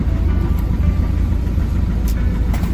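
Inside a moving city bus or trolleybus in Odesa, a loud continuous low engine and road rumble fills the space, with a few faint clicks and rattles on top and no voices.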